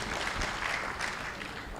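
Steady, dense applause from the audience at an annual conference of the African Network of Parliamentary Budget Offices held in Kenya, a continuous crowd clatter filling the room with no voice on top.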